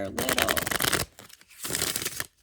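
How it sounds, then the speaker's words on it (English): A small tarot card deck is shuffled by hand up close, giving two bursts of crisp riffling and papery flutter separated by a short pause. "I'm going to give it a good shuffle."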